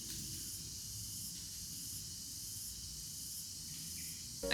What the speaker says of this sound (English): can you hear the fucking crickets outside?